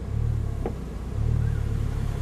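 An Audi R8 V8 Spider fitted with an Armitrix exhaust drives toward a tunnel, its engine a steady loud rumble that swells briefly as it cruises, with no talking.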